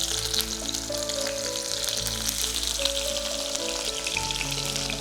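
Small onions, or shallots, dropped into hot oil with popped mustard seeds, frying with a dense, steady crackling sizzle close up, with soft tonal music running underneath.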